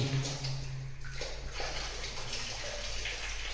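A motor pumps water up from a borewell on a farm plot near Rajkot: a steady gushing flow over a constant low mechanical hum, continuous and fairly close, with no talking.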